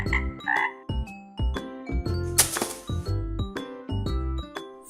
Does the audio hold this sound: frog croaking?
yes